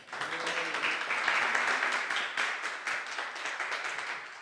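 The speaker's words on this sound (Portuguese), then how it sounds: "Será que nós podemos aplaudir Jesus nessa noite?" A church congregation claps together during an evening worship service, a steady dense wash of hand claps that swells and holds for several seconds, close and loud, with no talking over it.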